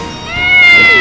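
A cat meows once in the Octopath Traveler: Champions of the Continent video game, a short, loud, rising mew that lasts about a second.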